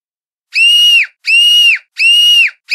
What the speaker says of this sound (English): I can hear the girls' screams.